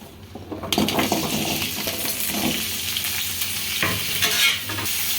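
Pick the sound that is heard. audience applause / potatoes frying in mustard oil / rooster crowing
potatoes frying in mustard oil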